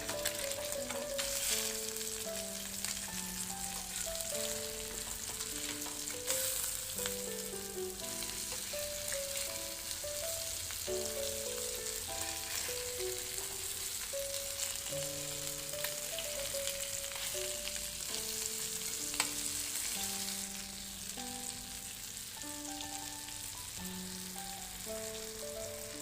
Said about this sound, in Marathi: आता आपण मासे पलटी करून घेणार आहोत।